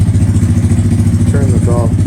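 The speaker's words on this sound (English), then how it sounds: "That's high idle. That one is still running." Honda Grom motorcycle engine running at high idle, close and loud, with a steady rapid thumping pulse throughout. A voice cuts in briefly over it.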